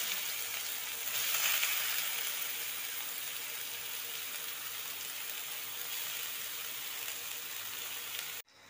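Chopped onions fry in a pan with a steady, soft sizzle that holds evenly for about eight seconds before cutting off.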